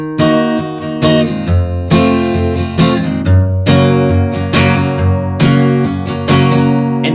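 An acoustic guitar strums a pre-chorus chord progression, playing a rhythmic strumming pattern of full chords that change every couple of seconds, close and clear with no voices.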